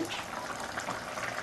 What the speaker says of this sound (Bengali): এবার আমি মাছগুলো দেবো। মাছগুলো দিয়ে আরও 3 মিনিট মতো ফুটিয়ে নেব।